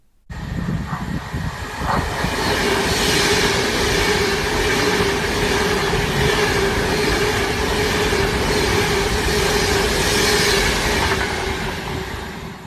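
OO gauge model railway train rolling continuously around a layout, a steady close rumble with faint clicking and squealing wheels, no talking.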